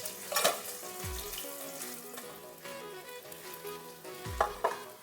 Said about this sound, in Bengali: তেলটা গরম হয়ে গেছে, দিয়ে দিচ্ছি মাছ।